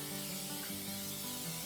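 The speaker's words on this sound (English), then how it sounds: "you just kind of spray it on there like this" Tire shine spray hissing steadily onto an offroad vehicle's tire in a continuous burst, with a tonal musical hum running underneath.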